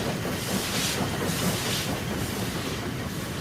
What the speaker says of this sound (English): Trains leave Fenchurch Street under a covered way.